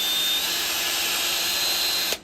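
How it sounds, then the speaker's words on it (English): A power drill on low speed bores into a dried corn cob with a quarter-inch wood bit with a pilot tip, giving a steady, loud whirring grind that runs continuously and stops abruptly at the end. "Drill on low."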